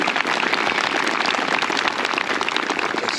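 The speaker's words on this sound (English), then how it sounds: "Let's give them a round of applause." Applause from a crowd at a high school graduation ceremony, a dense, steady wash of clapping that holds throughout without a break.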